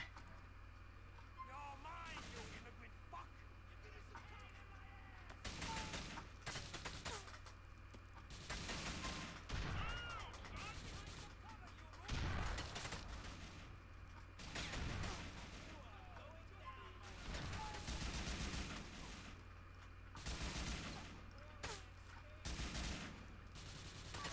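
AK rifle gunfire from Grand Theft Auto 4 comes in loud repeated bursts and rapid volleys across a busy combat scene, with someone talking over the shooting now and then.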